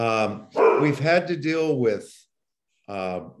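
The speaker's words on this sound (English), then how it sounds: "dog we're babysitting." A dog being babysat barks in the background at a public meeting on administrative appeals, with a few short yips breaking through steady, close speech.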